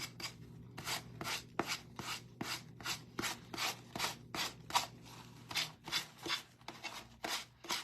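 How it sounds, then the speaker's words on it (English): Steady back-and-forth rasping of a sanding block rubbing across wood, close up, in rhythmic strokes roughly every half second. "sanding block, sand it right off of there."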